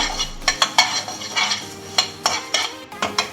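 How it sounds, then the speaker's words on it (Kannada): Coriander seeds dry-roast in a pan over a low flame while a spoon stirs them, making a dozen or so close, crisp scraping strokes in a loose, uneven rhythm, with no talking. "ಎಲ್ಲ ಸ್ವಲ್ಪ ಸಣ್ಣ ಉರಿಯಲ್ಲಿ ಧನಿಯಾ ಕಾಳನ್ನು ಹುರ್ಕೊಳ್ಳಿ"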